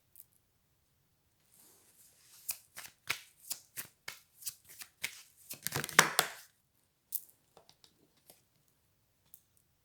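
A deck of cards is shuffled in a run of rapid riffling bursts that build to a dense flutter, followed by a few scattered soft taps in an otherwise quiet room.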